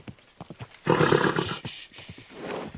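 A horse in the game Kingdom Come: Deliverance 2 lets out a loud, rough whinny, with hoof clip-clops and movement sounds before and after it.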